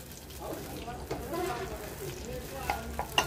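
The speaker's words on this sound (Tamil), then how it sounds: "இப்போ புளி தண்ணி ஊற்றிடுங்க." Tamarind water is poured into a hot pan and sizzles steadily, a loud frying hiss with bubbling, while someone talks over it.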